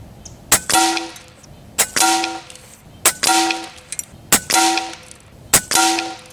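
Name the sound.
Airmaks Arms Caiman X PCP air rifle shots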